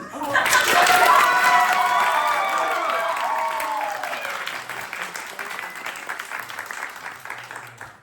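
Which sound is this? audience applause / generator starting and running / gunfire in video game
audience applause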